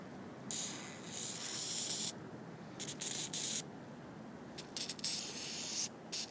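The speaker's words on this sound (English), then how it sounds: "Get some silicone spray down in there." Silicone spray hisses in short bursts into the recoil spool of a Honda or Lawn-Boy lawn mower, close and fairly quiet, several separate squirts with brief pauses between them, no voices.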